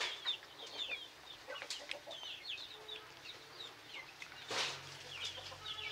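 Chickens on a small poultry farm cluck and chirp faintly in the background, with scattered soft calls and one brief louder rustle of movement near the end.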